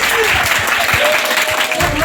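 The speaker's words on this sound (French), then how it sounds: "On applaudit." A school audience at a 2023 class competition final gives loud, close applause. The clapping is brisk and full, with low thumps and some voices mixed in.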